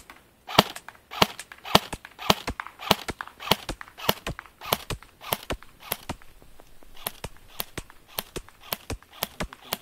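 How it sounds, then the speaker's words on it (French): Airsoft M4 RIS rifle by P&J firing on semi-automatic with the stock sights: a steady string of sharp, close snapping shots, roughly two or three per second, each a crisp click-pop with a short decay, no talking. "on va commencer à tirer en semi-automatique"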